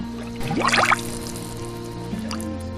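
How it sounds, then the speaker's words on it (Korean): Wet, gurgling bubbles of thick volcanic mud pop in a quick cluster near the start, then a few softer blips follow over a steady low hum. "마치 물풍선이 저기 아래에서부터 올라오는 것처럼 보글보글 꾸준히 계속 올라옵니다."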